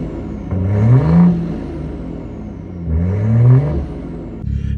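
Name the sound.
BMW B58 engine revving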